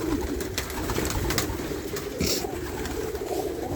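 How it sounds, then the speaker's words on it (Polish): Pigeons settle back into a loft, giving soft, close coos and brief wing flutters over steady outdoor background noise, with no voices. "Tak, siadły. Wchodzą gołębie."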